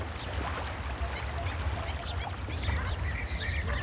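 Ducks and geese calling at a protected Moroccan wetland, with scattered quacks and honks over a steady low rumble of water and wind, fairly close and continuous.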